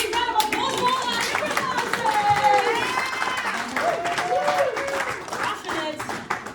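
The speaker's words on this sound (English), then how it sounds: "give a big round of applause for all our" Audience applause at an improv comedy show: dense, close clapping from a small crowd, with scattered voices and a child's speech over it.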